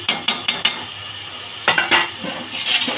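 Meat being stirred in a pot for a Bangladeshi fried-rice biryani, with quick bursts of a spoon scraping and clanking against the metal over a low sizzle, in two short clusters close by.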